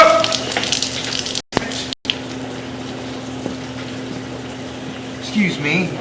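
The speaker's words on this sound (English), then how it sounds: "somebody just flushed while the pipe was open" Water from a toilet flush gushing through an open drain pipe during a plumbing inspection at a house, a loud, steady rushing flow with two brief dropouts and a swell near the end.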